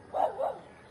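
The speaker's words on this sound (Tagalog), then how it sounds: "Papaligiran tayo ng mga aso." A dog gives two quick barks in close succession, moderately near, followed by quiet.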